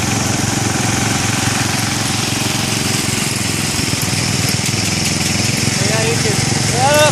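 A 1967 Case 155 tractor engine runs steadily at close range, a continuous rough mechanical chugging with a low throbbing pulse that holds constant throughout.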